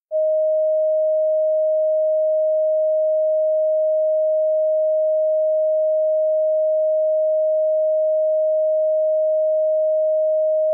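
A single steady pure tone sounds continuously at one pitch and constant loudness, with no other sound.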